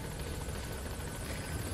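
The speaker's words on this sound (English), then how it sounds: "Oh damn, I have to get back in the helicopter before I can do that." Helicopter rotor chopping steadily and close in Metal Gear Solid V as it arrives for a pickup, a dense continuous thrum with no voices over it.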